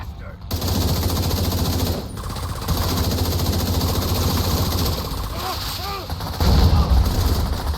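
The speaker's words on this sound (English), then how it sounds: "Just rockets go flying in" Incoming rockets and heavy weapons fire in the shooter game The Division 2 form a dense, continuous barrage of booms and rattling gunfire, loud and close, with a brief dip near two seconds and a heavier low rumble toward the end.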